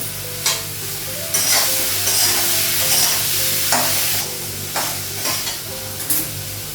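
Potatoes frying in a pan of oil in a Bengali home kitchen, a loud bubbling sizzle broken by repeated spatula scrapes and stirs at an irregular pace, no one speaking.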